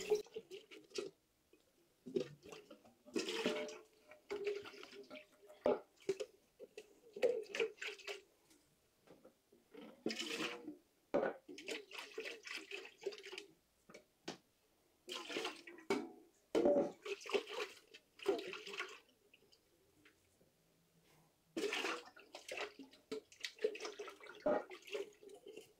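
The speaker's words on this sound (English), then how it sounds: "we're going to swish some water in the cans." Water is swished and sloshed inside empty tomato cans during home canning of tomato sauce, in repeated bursts of splashing and dripping separated by short quiet gaps, close and moderately loud.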